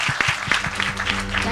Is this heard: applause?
yes